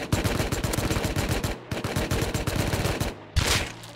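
Rapid automatic gunfire in the survival game Rust, dense bursts of close, loud shots with brief pauses between volleys and a sharper blast near the end.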